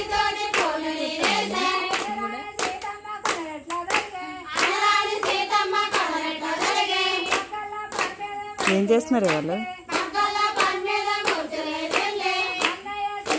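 Villagers singing Holi songs together clap their hands in a steady, close rhythm through the whole stretch, and a voice briefly speaks over the singing.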